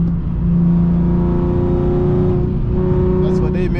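Engine of an Infiniti G37X car pulling hard under acceleration, a steady loud drone with rising harmonics recorded from inside the cabin, a voice speaking over it near the end.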